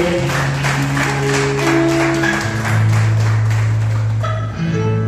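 A church congregation claps in steady rhythm during a worship service, the claps mixed with sustained keyboard or organ tones throughout, fairly loud and continuous.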